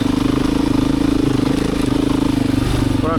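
A Beta 500 dirt bike engine runs loud and close on Michigan's Black Lake North Loop, a rapid pulsing thump at a steady, fairly high rev, with no voices.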